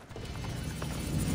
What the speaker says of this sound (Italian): Ho preparato dei cavalli.